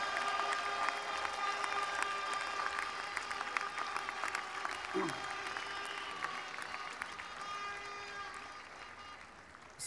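Sustained ovation at a large French political rally, the Fête de l'Humanité meeting: dense crowd clapping and cheering throughout, slowly thinning toward the end, with voices mixed into the roar.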